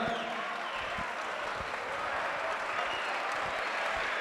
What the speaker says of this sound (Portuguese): Aplausos para o Nicotina,